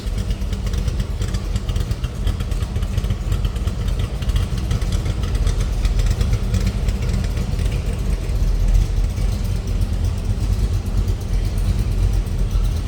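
A 1965 Shelby Cobra replica engine idles with its manual choke pulled, a steady, close, rumbling drone with a slightly uneven lope that holds unchanged throughout, without any talking.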